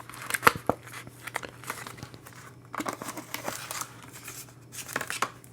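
Plastic packaging for an iPhone 13 camera lens protector is opened up close, giving bursts of crinkling and crackling with brief pauses between handling.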